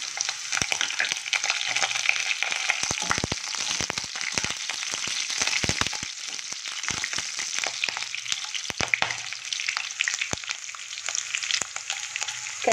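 Green chillies frying in hot ghee give a steady, close crackling sizzle with dense sputtering pops throughout, alone with no talk.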